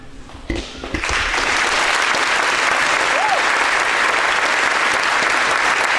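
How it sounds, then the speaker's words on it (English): A graduation crowd in a large hall breaks into sustained, loud applause for the top ten students, dense clapping filling the space steadily after a brief lead-in, with a short whistle partway through. "we ask that you applaud when each group is recognized"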